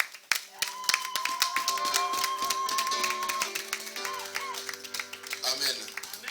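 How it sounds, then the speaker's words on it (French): A church congregation at a thanksgiving service claps and cheers in praise, with sharp rhythmic hand claps over sustained musical tones and voices. "Est-ce qu'on peut donner des acclamations?"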